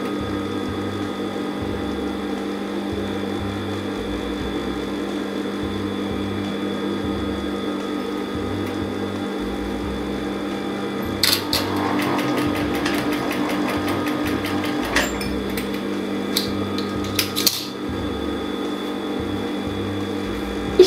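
A sewing machine stitches a triangle of fabric for a placket, running in a rapid mechanical rattle for several seconds midway, with a few short bursts afterward over a steady room hum.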